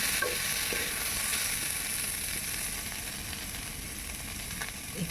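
Potato and paneer stir-fry in a pan, producing a constant close sizzle with a few faint spatula scrapes and a small knock at the end.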